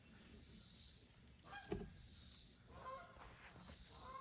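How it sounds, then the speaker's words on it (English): Geese honking overhead, a few calls rising and fading at moderate distance over steady outdoor background noise. "Oh, those geese flew over."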